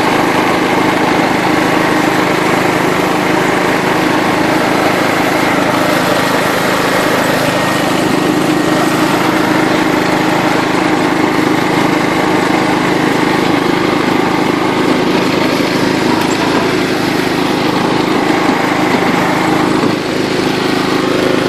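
A John Deere LT133 lawn tractor runs at top speed in its highest of five gears, its engine droning loud and steady at close range without a break.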